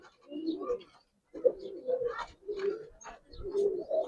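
A pair of green pigeons, male and female, giving soft, low cooing calls close by in short repeated phrases separated by brief gaps.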